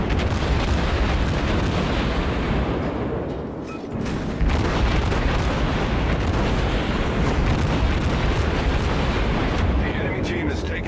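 The USS St. Louis fires its many guns in World of Warships, a nearly unbroken barrage of heavy booming salvos and explosions that fills the whole stretch at high volume.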